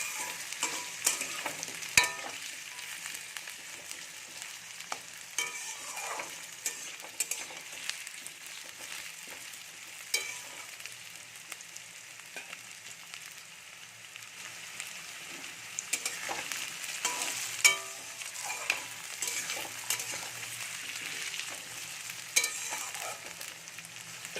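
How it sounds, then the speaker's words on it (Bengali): Potatoes fry in a pan with a steady sizzle, broken by occasional scraping from stirring. The sizzle continues throughout, close by, and no one speaks. "আলুগুলো ভাজা হয়ে গেছে"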